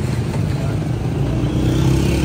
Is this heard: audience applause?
no